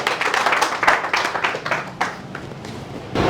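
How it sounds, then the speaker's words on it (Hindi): Applause from an audience at a Holi poetry gathering, welcoming a poet to the stage: a dense, steady patter of many hands clapping close by, easing off briefly before a fresh burst near the end. "जोरदार ताली के साथ में स्वागत करो दिलीप पुडेटी जी"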